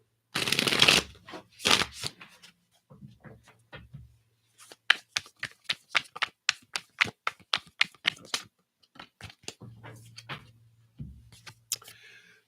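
Tarot cards riffle and snap together in quick bursts, followed by a run of crisp, evenly spaced taps as the deck is cut and squared, close and clear with no talking.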